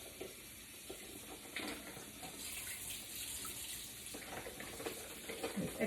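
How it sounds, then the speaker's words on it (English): Tap water runs steadily over a heavy beef brisket as it is rinsed in a sink, a continuous close splashing stream with no pauses. "Okay, so rinse it off"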